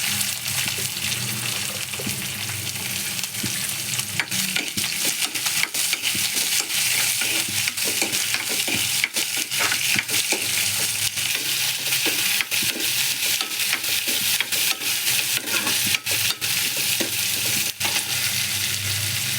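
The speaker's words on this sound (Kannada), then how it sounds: "ಈರುಳ್ಳಿನ ಹಾಕ್ಕೊತಾ ಇದ್ದೀನಿ." Onions frying and stirred in a pan, a loud continuous sizzle with frequent scraping stirs, close and steady throughout with no talk.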